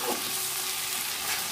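Spices frying in a pan with a steady, close hiss and sizzle, stirred continuously throughout the short stretch.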